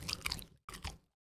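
Crisp crunching bites into strawberry-flavored edible paper, two short close bursts of chewing separated by a brief silence, then quiet.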